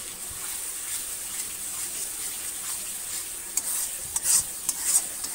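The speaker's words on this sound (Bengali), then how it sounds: "ভালো করে আমি লাল লাল করে একদম ভেজে নেব" Spice paste fries in oil for a jackfruit curry, giving a faint, steady sizzle with soft stirring scrapes that grow a little louder and more frequent toward the end.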